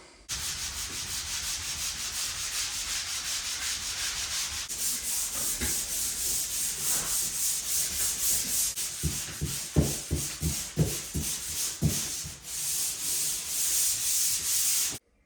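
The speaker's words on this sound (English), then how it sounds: "Gotta sand that down." Drywall joints on sheetrock in an off-grid shipping container room are sanded by hand in a steady, continuous scratchy rubbing that runs nearly the whole time, with stroke-by-stroke pulses growing more distinct toward the end.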